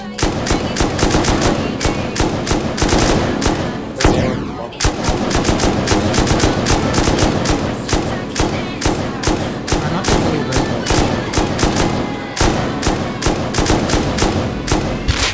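Gunfire in modded Rust, rapid automatic shots hammering out in a continuous, loud stream with barely a pause across the whole stretch.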